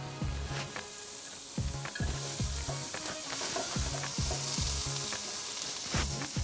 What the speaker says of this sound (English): So I'm going to add the carrot.